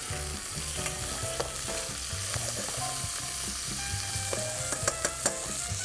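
Steaks fry in a pan beside mushrooms, a continuous crackling sizzle broken by scattered pops and light clinks of a utensil, fairly quiet and close.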